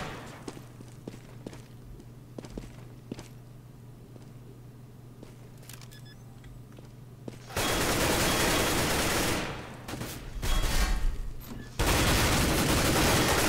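Automatic rifle spray in Counter-Strike on de_ map, a long sustained burst of gunfire starting midway and running to the end, dense and loud after quieter footsteps and ambient game sound.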